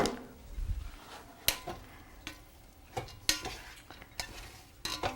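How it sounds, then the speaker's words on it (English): A spoon scrapes and clinks against a pan while stirring an Indian food mixture, with a quiet background sizzle, repeated sharp scraping strokes at uneven intervals, and no talking. "Give it a good mix and you can take it out."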